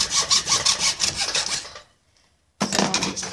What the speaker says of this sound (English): I use a hacksaw because it has finer teeth and it won't rip up the wood.